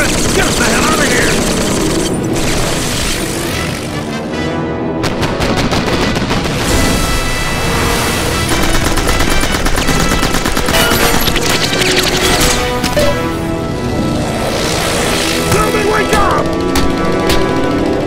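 Anti-aircraft and machine-gun fire in a wartime film, dense bursts of shots and rattling volleys over engine drone, loud and continuous, with voices shouting over the battle.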